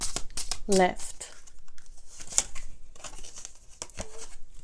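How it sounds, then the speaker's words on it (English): Tarot cards are shuffled and drawn, making soft crinkly slaps and brief papery riffles that come in scattered bursts beneath a voice. "I'm really shuffling and drawing out the cards"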